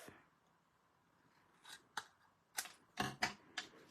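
Scissors cut paper for a handmade card in a few short, crisp snips that come in irregular bursts against a quiet background.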